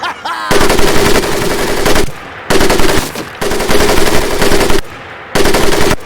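Machine-gun fire in the video game Medal of Honor Pacific Assault: four long, loud rattling bursts separated by short quiet gaps, with no talking.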